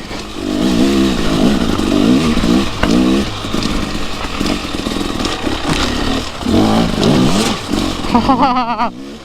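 A dirt motorcycle hopping over a suspended log on a slippery spring trail, the engine loud and close, revving and surging with clutch blips and clattering knocks.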